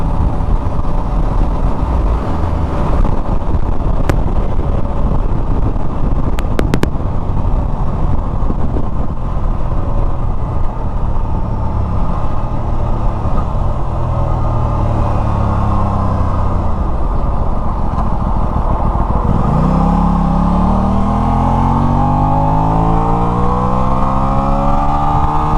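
A 2024 Aprilia RS660 Tribute motorcycle being ridden, its engine loud and close with a steady droning pitch, a couple of sharp clicks early, then revs sweeping down and up again near the end.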